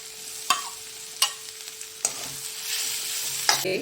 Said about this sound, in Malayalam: അതും ഈ നെയ്യിലോട്ട് ഇട്ടിട്ട് ഒന്ന് വഴറ്റിയെടുക്കണം